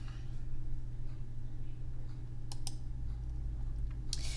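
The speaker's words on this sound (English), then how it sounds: "So I'm going to click on it," Two sharp computer mouse clicks near the middle and another near the end, faint and close over a steady low hum from the room or computer.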